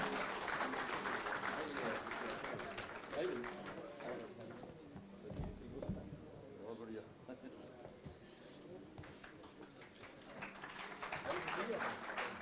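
An audience at a Haryana conclave applauds, with dense clapping sustained throughout at a moderate distance, a voice over a PA faintly heard underneath.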